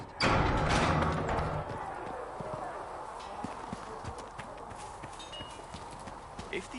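Horses in Dragon Age Inquisition clip-clop with steady hoof beats on hard ground, the sound starting loud and close then settling into a quieter, continuous rhythm, with a voice talking over the hooves.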